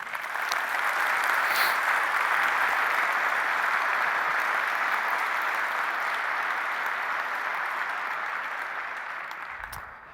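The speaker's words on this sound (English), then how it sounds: "these guys really deserve a round of your applause, so please give it to them" Sustained applause from a large convention keynote crowd, steady and loud for about ten seconds before tapering off slightly at the end.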